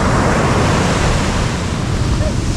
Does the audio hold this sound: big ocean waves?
yes